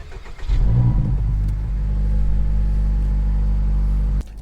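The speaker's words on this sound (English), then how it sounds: "So I'm going to start the car up." A 2024 Acura Integra Type S engine cranks and fires, flaring up loudly before settling into a steady close idle, then cutting off abruptly near the end.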